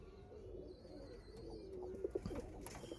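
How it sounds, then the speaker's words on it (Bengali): Andhra Kalanka pigeons at a loft give low, rolling coos, close and fairly quiet, with a few brief sharper calls toward the end and no voices. "খুব দারুণ পায়রা আছে।"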